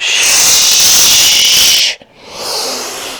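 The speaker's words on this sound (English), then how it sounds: "So we pulse the body, but we breathe long. We exhale, exhale, exhale." A long, forceful hissing exhale close to the mic, then a short pause and a softer second breath.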